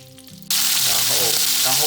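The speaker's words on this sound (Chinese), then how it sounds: "然后锅中加入油。 首先把这个辣椒加进去" Green chili peppers hit hot oil in a wok with a sudden loud sizzle. The sizzle holds steady and strong after the burst, and quiet kitchen sounds come before it.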